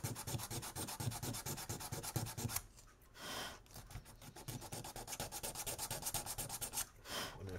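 Sandpaper rubbing back and forth over a Rick and Morty portal gun prop in steady close strokes, with two short pauses and no talking.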